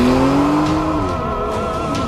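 A car pulls away with a rising engine tone and a brief tire squeal, loud and close, in a cartoon horror scene where the grandfather drives off to see a sinister holy man.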